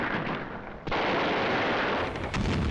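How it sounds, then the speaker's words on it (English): Machine gun fire in a wartime battle scene sounds as a loud, dense, continuous barrage with one sharp break partway through and no voices. "the reconnaissance platoons unleashed a barrage of machine gun fire on the infantry"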